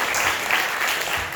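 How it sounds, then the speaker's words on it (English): Audience applause after a poetry performance at a spoken-word show, a short burst of steady crowd clapping with an even level throughout. "Give one more round of applause for my man Jacob"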